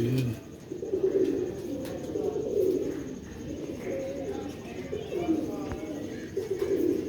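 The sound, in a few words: pigeons cooing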